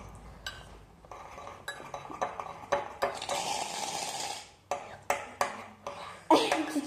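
Shaving foam and glue being stirred together in a container to make slime, with irregular scraping, clinking utensil taps and squelchy mixing sounds, close and moderately loud, no talking.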